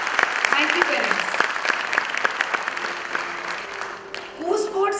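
An audience at a school annual function breaks into steady, dense applause that carries on for several seconds, thinning toward the end as a voice briefly rises over it.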